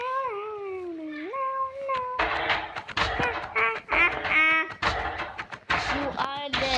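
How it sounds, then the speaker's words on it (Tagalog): A cat meows in the Minecraft video game, opening with a drawn-out meow and followed by busy game noise and someone talking. "Pusa yun."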